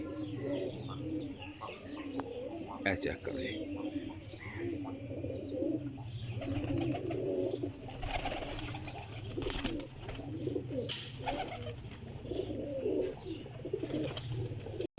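Long-faced Salari Teddy pigeons coo repeatedly in low, rolling calls close by, with occasional chirps from other birds, while someone talks briefly over them.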